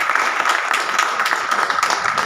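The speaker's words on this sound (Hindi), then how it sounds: "इसके लिए एक बार जोरदार तालियां।" Audience applause at a hospital health-awareness program, a steady wash of clapping from a crowd throughout, moderately loud with no talk over it.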